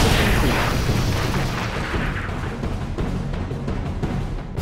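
A tech inhibitor blows up in the strategy game Red Alert 3, a loud, sustained rumbling explosion that starts with a heavy boom and crackles on as a dense roar.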